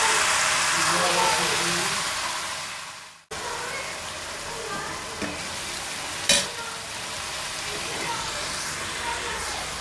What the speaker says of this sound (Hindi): अब इसको भून लेंगे, सब कच्चापन ख़त्म करेंगे।